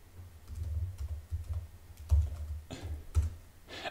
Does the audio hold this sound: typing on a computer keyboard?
yes